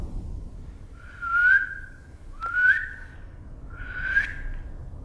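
Three clear tonal whistles near a river, evenly spaced about a second and a half apart, sounding fairly close over a low rumbling background.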